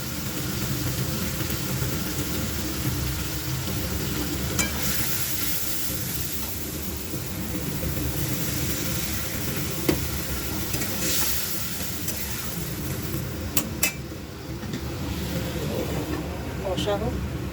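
Ground coriander, cumin, turmeric and chilli with salt and a little sugar sizzling and being stirred in a pan, a continuous close frying hiss with scraping sounds and a few sharp clinks.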